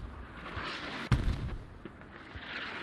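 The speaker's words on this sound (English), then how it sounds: "You can hear the mortars coming from the map." Mortar fire in a video game on the Fools Road map: a single sharp distant boom lands over a steady background rumble of battlefield noise.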